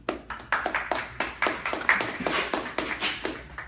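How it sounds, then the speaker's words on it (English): Audience applause for a speaker at the Globecom 2014 conference: a small crowd claps in loose, scattered bursts for nearly four seconds, fairly close and clear, with no talking. "let's give him a round of applause"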